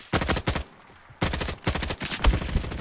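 Grenades going off in a Roblox shooting game, a quick burst of loud popping blasts, a brief lull, then another rapid string of booming bursts.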